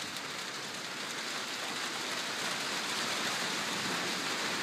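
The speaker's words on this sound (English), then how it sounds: "Listen to that rain." Heavy rain pours steadily onto a covered bridge, a dense, constant hiss of water with no voices.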